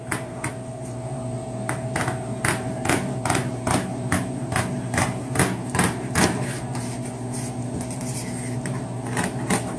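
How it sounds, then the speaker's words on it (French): Scissors snip along the dorsal fin of a Dover sole at a fishmonger's counter, a run of sharp, evenly spaced clicks and thuds over steady background hum. "On va tout simplement aller le couper avec notre ciseau comme ça."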